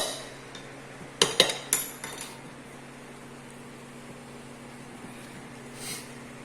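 A spoon clinks against a bowl while stirring date chocolate sticky cake batter, a short cluster of sharp metallic taps near the start followed by quiet scraping and one faint clink later.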